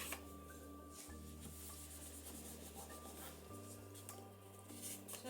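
Soft, continuous rubbing as a paper embellishment is burnished onto a junk journal tag, a quiet close scraping texture over a low steady background hum.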